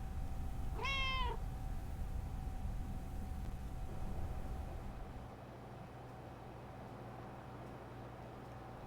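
A cat in the video game Lake gives one clear, rising and falling meow near the start, close and distinct over a quiet, low background hum.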